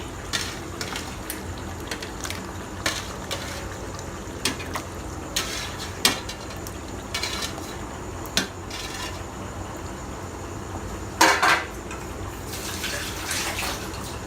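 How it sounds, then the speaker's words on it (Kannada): Chicken liver being washed in a bowl, with water sloshing and splashing in uneven bursts and occasional clinks against the vessel, close and moderately loud with no talk. "ನೀಟಾಗಿ ತೊಳಿಬೇಕು ಲಿವರ್ ಮಾತ್ರ ನೀಟಾಗಿ ತೊಳೆದು"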